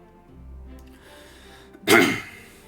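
A single sharp sneeze bursts out near the end, loud and close, after a stretch of quiet low room noise.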